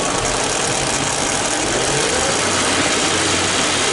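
The engine of a 2005 Chevy Tahoe runs steadily at close range with a constant broadband drone and no clear change in pitch. The vehicle has a transmission or electrical fault and only shifts once.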